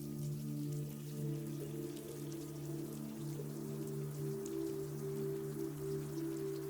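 Steady rain falls on a rainy night in ancient Rome, a soft continuous patter heard alone, with a low steady hum running beneath it throughout.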